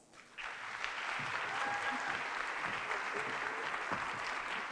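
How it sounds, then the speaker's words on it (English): An audience at an employee gathering breaks into steady, dense applause that holds for several seconds, heard from a distance and fairly faint, with no voices over it. "Let's welcome her to the stage with a round of applause"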